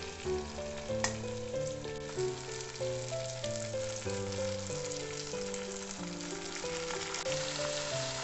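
Ground spice paste fries with browned onions in a pan for chicken curry, giving a continuous hissing sizzle with some stirring. Steady melodic music plays over it throughout.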